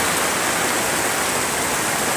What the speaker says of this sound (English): It's raining right now, and this flag is not moving.